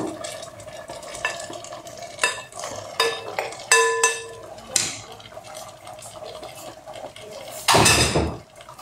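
Beans go into a pot of dobradinha and get stirred, giving a run of close clinks and scrapes of a spoon against the pot, with a louder splashing burst near the end.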